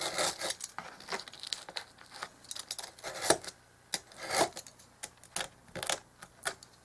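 Craft knife with a dull blade scraping and cutting thin wood trim for a dollhouse miniature front porch, close-up irregular rasping strokes and small ticks, fairly faint with no talking.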